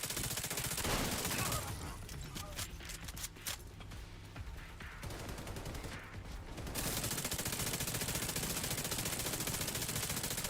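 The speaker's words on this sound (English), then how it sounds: "Who is that guy shooting at?" Rapid sustained gunfire from The Division 2, a steady dense crackle of automatic shots that thins briefly in the middle before resuming, fairly quiet and distant overall.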